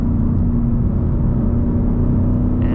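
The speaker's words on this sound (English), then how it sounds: "Let me downshift to 3rd." A Ford Mustang GT with a 10-speed automatic holds a loud, steady low engine drone after a paddle downshift to third, with a continuous rumble inside the cabin.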